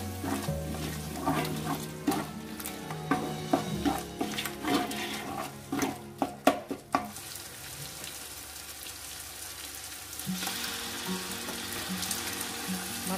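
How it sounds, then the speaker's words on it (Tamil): Masala with Kashmiri chilli powder is sautéed and stirred in a pan for biryani: sharp scraping clatters of the spoon at first, then a steady, softer sizzle. "இப்போ நாம் இந்த மசாலா எல்லாமே ஒன்று சேர்ற மாதிரி நல்லா வதக்கி விடணும்."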